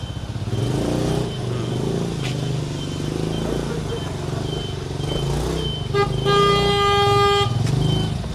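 Car horns honk in congested traffic on a steep road in Santorini, several short toots and then a long, loud blare over idling engines, with someone talking nearby.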